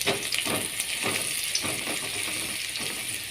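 Curry leaves frying in hot oil in a pan while raw peanut dry masala is cooked, giving a steady bright sizzle with faint crackles and stirring scrapes throughout.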